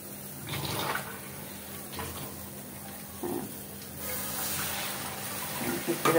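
Water runs and splashes into a cooking pot before noodles are boiled, in a few uneven bursts of pouring and trickling, with faint voices in the background.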